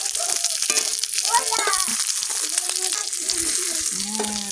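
Rupchanda fish frying in oil, a bright, steady sizzle up close, with voices speaking over it.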